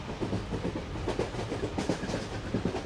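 The Tejas Express running in Indian Train Simulator, a steady rumble with a regular clickety-clack of wheels over rail joints, continuous and close.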